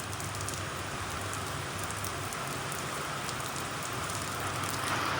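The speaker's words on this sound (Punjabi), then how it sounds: "ਮੀਂਹ ਪਈ ਜਾਂਦਾ ਹਜੇ" Steady rain pours down in a continuous hiss, dense and even throughout, with no voices or other sounds standing out.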